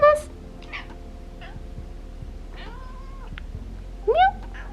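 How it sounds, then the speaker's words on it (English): A cat meows a few times nearby, a short call at the start and a louder rising meow near the end, with quiet room noise between. "I wonder if I can get her to meow."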